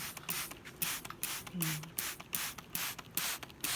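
A handheld spray bottle mists water onto hanging Spanish moss in quick, evenly spaced spritzes, about a dozen close bursts, with a brief low voice murmuring midway.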